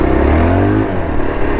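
A 2026 Yezdi Adventure motorcycle rides on the road, its engine loud and close with a throaty rising rev that eases off into a steady low-end grunt.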